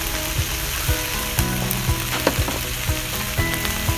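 Sliced onion and soy sauce sizzling loudly on a hot griddle with short ribs and fried rice nearby, a constant crackling hiss broken by a few sharp scrapes and taps of a spatula.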